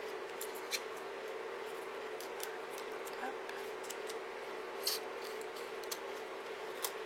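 Scattered crisp snips of scissors cutting, several sharp clicks at irregular intervals over a quiet background, with a brief spoken word.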